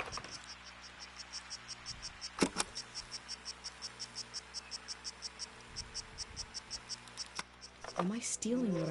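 Cicadas along an east forest path pulse in a regular rapid series of quiet high chirps, with a couple of sharp knocks and a brief bird-like call near the end.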